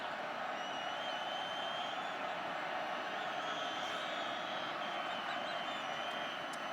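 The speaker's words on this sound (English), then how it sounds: "Crowd trying to rile up Boise." Steady roar of a stadium crowd at a Boise State home college football game against Air Force, cheering and yelling continuously to fire up the home team, dense and unbroken throughout with no clear pauses.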